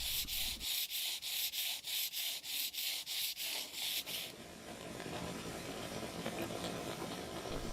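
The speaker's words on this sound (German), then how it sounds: "Den letzten Feinschliff erhält die Krempe mit Schleifpapier." A felt hat brim being sanded with sandpaper: about a dozen rhythmic, close rasping strokes in even succession, then a softer, continuous rubbing hiss to the end.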